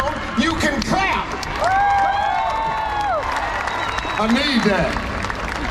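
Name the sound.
audience clapping at a talk show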